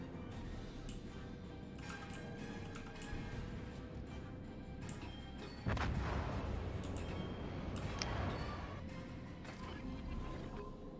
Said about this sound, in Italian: 3 secondi sparo e tra poco si girano i cannoni.